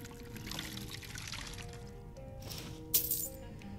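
Water poured as a refill in Avowed, a brief soft pour and trickle under ambient game sound, ending in a small clink, with no talk.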